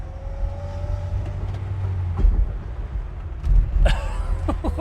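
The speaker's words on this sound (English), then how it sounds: "Yeah, we're taking the Lada for a drive." A Lada 2103 car drives along, a steady low engine drone and road rumble filling the cabin, with a couple of louder thumps and a brief whining rise near the end.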